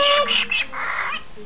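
A pet bird out of its cage gives a loud, harsh squawk that breaks into several short, rasping calls, close by and filling the whole moment.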